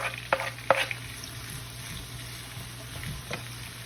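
Onions, courgettes and chili peppers fry in a pan with a quiet, constant sizzle. A few sharp scrapes and knocks from a stirring utensil sound near the start and once more toward the end.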